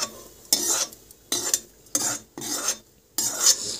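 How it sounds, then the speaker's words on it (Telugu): Okra is stir-fried in hot oil in a pan for an okra chutney, heard as four loud, close scraping and sizzling bursts from stirring strokes, with brief quieter gaps between them. "ఇలా వేగాలి, బాగా వేపాలండి, లేకపోతే జిగట జిగటగా ఉండిద్ది."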